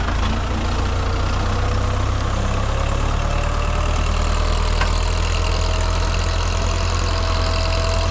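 A Başak 2073 tractor engine runs steadily with a low, continuous diesel drone, loud and close throughout, while ploughing a wet former maize field.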